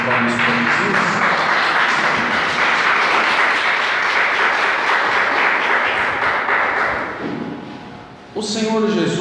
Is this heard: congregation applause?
yes